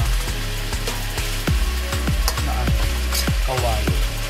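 Onions sizzle and crackle hard in a very hot wok, a steady loud frying hiss with scraping stirs and occasional metallic clinks.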